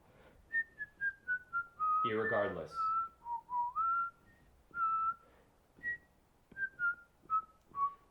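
A person whistles a wavering, sliding tune in short phrases, fairly close, broken by a burst of laughter and a brief spoken word in the middle.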